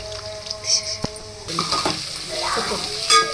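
Onions sizzling in a pan for spicy chicken curry, stirred with a utensil, giving a close steady hiss broken by scraping stirs and a sharp clink, with no voice.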